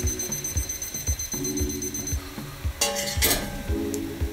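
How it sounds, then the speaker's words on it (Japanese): Pasta cooking water is stirred into sauce in a frying pan for a Japanese-style chicken pasta, with rhythmic scraping strokes of a utensil against the pan over a soft sizzle, close up and without talk. "先ほどのフライパンにゆで汁を加えて混ぜていきます。"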